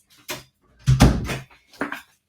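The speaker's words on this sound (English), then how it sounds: "let me just shut this door because of the dog" An interior door being pushed shut, a few close, sharp knocks and a thudding clunk as it closes against the frame, with a final softer tap.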